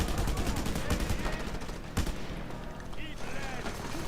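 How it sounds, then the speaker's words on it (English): In the video game Just Cause 2, a chain gun fires rapid continuous bursts, a dense rattle of shots with a heavier boom partway through, under a voice talking. "Oh, chain gun."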